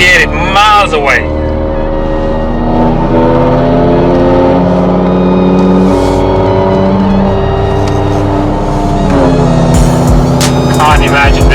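A BMW M6 E63 with the S85 V10 engine roars loudly and continuously, its deep harmonic drone rising and falling with throttle, very close and dominant throughout.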